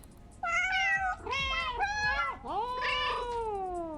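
A cat in the video game Calico meows while glitching, a run of several loud, close, drawn-out tonal meows, some rising and bending in pitch, with a short pause between calls.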